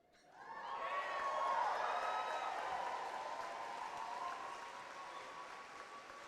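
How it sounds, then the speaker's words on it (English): A graduation crowd at Academy of the Redwoods swells quickly into loud applause with a few cheers and whoops, then holds a sustained roar that slowly eases off over several seconds. "if that round of applause didn't explain it to you, that's a really big deal"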